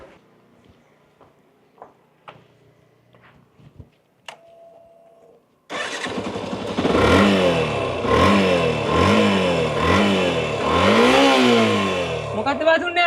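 A motorcycle starts after a few quiet seconds of faint clicks and handling noises, then revs loudly up and down in repeated surges, close by.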